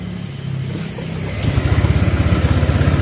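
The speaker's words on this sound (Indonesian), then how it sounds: "saat digas dia merebet seperti mau mati" A motorcycle engine with a throttle fault idles steadily, then stutters and chugs in a rough, pulsing rhythm when the throttle is opened, loud and close with no voices.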